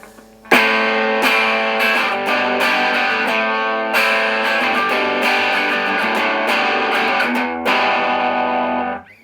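Electric guitar with double humbucker pickups strummed hard through an amp, giving a loud, driven, distorted tone in sustained chords with a few sharp re-attacks and no talking.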